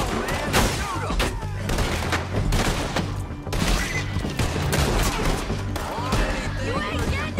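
Heavy, loud gunfire in Red Dead Redemption 2 during a town shootout, with repeated rapid shots and bursts pounding throughout, mixed with indistinct shouting voices.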